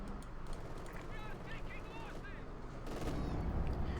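A KV-2 tank's heavy gun fires in Company of Heroes 2 with a deep booming report near the end, following a stretch of distant battle noise while a voice talks throughout.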